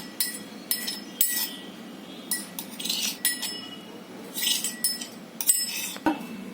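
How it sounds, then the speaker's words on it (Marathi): A spoon clinks and scrapes against a bowl while spices, coriander and cumin powder, and crushed green chilli paste are mixed for a soft cucumber cake, with quick repeated metallic taps close by. "आता हे सगळं मिक्स करते मिरचीचा ठेचा"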